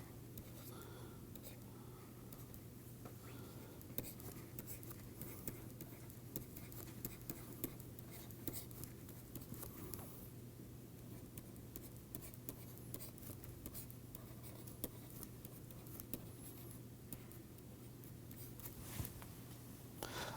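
A pen or marker writes out an equation in faint, continuous scratchy strokes during a lecture, quiet and close, over a low steady hum.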